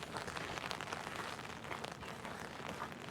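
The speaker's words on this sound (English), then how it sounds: "You can hear the rain on my umbrella." Steady patter of freezing rain drumming on an umbrella close overhead during an ice storm, a dense continuous hiss with no voices.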